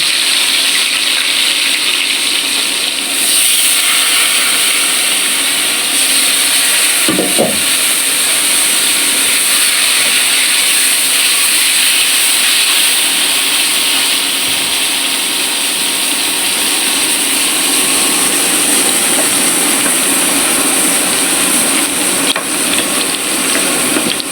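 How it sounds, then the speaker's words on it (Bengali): Rohu fish fries in hot oil in a pan, a loud, steady, close hiss of sizzling that continues evenly throughout with only a brief thump partway through. "আমি দিলাম এখন মাছ ভাজার জন্য।"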